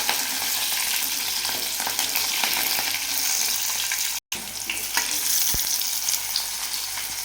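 Garlic and green chillies frying in a pan, giving a steady, close sizzle with faint stirring scrapes throughout and a brief dropout near the end.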